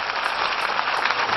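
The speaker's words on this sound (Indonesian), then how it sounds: "berikan tepuk tangan sekali lagi bagi Tuhan Yesus" A congregation at a JKI church worship service claps in a dense, steady burst of applause that fills the short moment with no voices over it.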